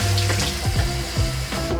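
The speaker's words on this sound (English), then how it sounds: "Let's rinse the blender." Tap water running steadily into a kitchen sink to rinse out a blender during preparation of a Nigerian tomato stew, a continuous close splashing stream with no talk.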